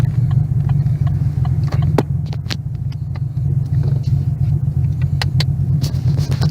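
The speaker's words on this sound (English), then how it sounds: "I've been idling the car longer because I like the sound." A Chevrolet Camaro engine idles in a deep, loud, steady rumble, close up, with small clicks and ticks scattered over the low drone.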